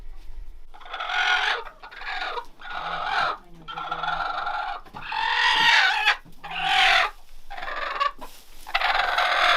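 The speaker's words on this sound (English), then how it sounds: "This is what a broody chicken looks like." A broody hen clucks at close range in a repeated series of loud, drawn-out grumbling calls, each separated by short pauses, with no talk over them.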